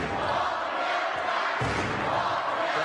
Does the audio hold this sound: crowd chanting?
yes